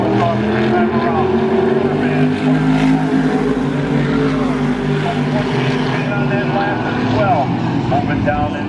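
Modified race cars roar around the oval at Spencer Speedway, a loud, continuous engine drone that rises and shifts in pitch as cars pass, with a race announcer talking over it.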